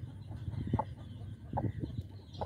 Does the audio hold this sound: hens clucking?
yes